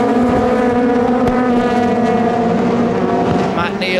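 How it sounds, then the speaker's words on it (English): Touring race cars with Honda engines in the 2005 British Touring Car Championship roar up a hill, a loud, sustained engine drone with steady harmonic tones throughout and no pause. "Matt Neal is looking fast now, using the power, if he can, of that Honda engine up the hill"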